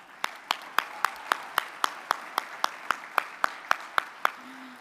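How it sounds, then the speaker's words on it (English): Steady, evenly spaced single claps ring out about fifteen times at a luncheon event, each sharp and close, with no crowd roar behind them. "Let's give them another round of applause"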